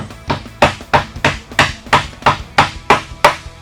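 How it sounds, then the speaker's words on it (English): About ten evenly spaced rubber-hammer taps driving a Honda CBR600RR wheel axle into place, in a steady rhythm, close and fairly loud, dull-edged blows with no talking. "take a hammer, preferably a rubber hammer, hit that in"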